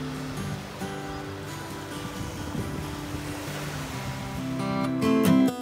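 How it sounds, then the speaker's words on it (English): Caribbean ocean waves at a St. Maarten beach wash in a steady, soft surf with light wind noise, swelling slightly louder toward the end. "overlooking the nice beach with really blue water."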